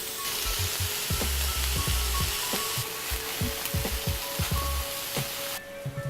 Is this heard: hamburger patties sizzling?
yes